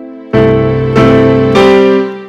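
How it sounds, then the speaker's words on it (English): Worship keyboard tone played too loud and heavily distorted: three sustained, harsh chords struck in succession, each clipping and buzzing with a saturated, overdriven edge, loud and close with no other sounds. "You hear that's distorted. It's too loud"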